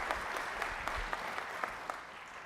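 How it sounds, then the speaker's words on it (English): An audience at a community campus announcement gives a fairly quiet, steady round of clapping, with scattered individual claps standing out from the dense patter, and no speech over it. "So let's give him a round of applause."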